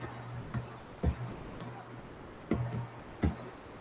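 Quiet computer keyboard keystrokes, a handful of crisp clicks and thumps at uneven intervals, close up in a calm room with no speech.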